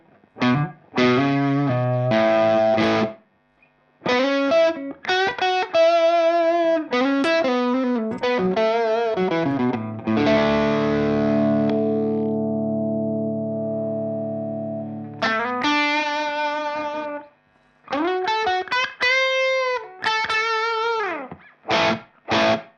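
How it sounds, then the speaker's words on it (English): Electric guitar with single-coil pickups plays through an overdrive pedal set for high gain, giving crunchy distorted chords and sustained notes in bursts with short pauses and a lingering held chord. "a lot of the magic with this pedal happens quite high up if you just want distortion"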